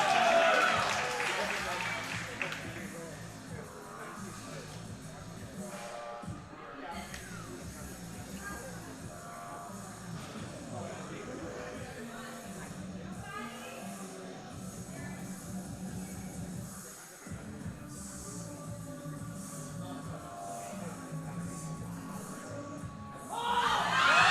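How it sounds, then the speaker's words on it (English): Steady crowd noise with clapping and cheers at a powerlifting championship, running throughout, loud and sustained, with some voices shouting over it. "give Patty a round of applause"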